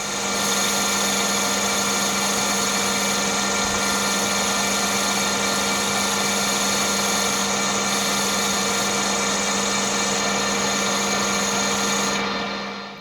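A metal lathe machines the smoke box center for a 4 1/2 inch scale Burrell traction engine, giving a constant mechanical whine with steady tonal hum that stays even and close throughout before cutting off at the end.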